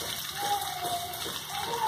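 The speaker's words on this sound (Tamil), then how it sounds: "கொஞ்சம் தண்ணி விட்டுக்கிறேன்." Water is poured into a pan of chickpea masala, a soft steady gushing and sizzling that sounds close and fairly quiet.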